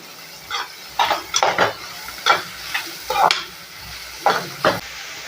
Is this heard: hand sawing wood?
no